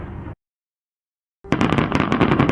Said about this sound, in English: another blast of fireworks from the distant hippodrome